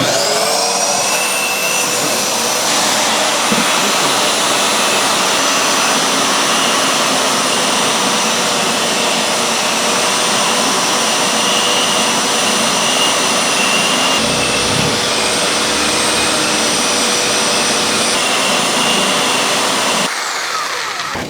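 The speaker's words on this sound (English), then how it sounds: "so now you could take a shop vac into that" A shop vac hooked to a budget oscillating spindle sander runs with a loud, steady, high whine and roar that holds unbroken throughout, close and alone with no talk.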